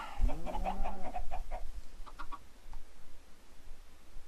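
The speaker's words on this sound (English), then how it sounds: "That's quite the chicken fighting pit you got there." Minecraft chickens clucking in a cramped chicken fighting pit, a burst of several overlapping clucks and squawks up close early on, then a few fainter scattered clucks trailing off.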